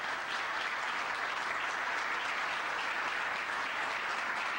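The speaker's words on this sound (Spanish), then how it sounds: "Le recibimos, por favor, con un fuerte aplauso." Steady, dense audience applause at a Spanish-language panel event, welcoming the moderator; sustained clapping fills the room at even loudness throughout with no speech.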